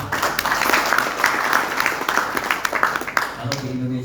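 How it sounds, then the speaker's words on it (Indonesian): An indoor audience applauds at the opening of a Central Java boxing coaches and referees seminar, with dense steady clapping that fades into a man's speech at the end. "Teman-teman, aplaus."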